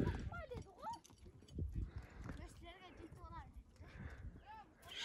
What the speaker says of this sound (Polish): Konie się zjeżdżają